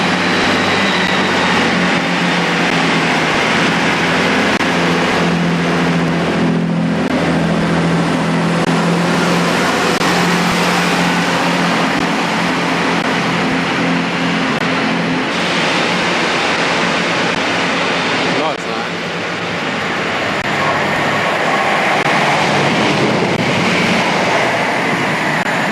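A train rolls through the English countryside, its loud, continuous rumble and rushing wind steady throughout, with only a brief dip in intensity partway through and no voices.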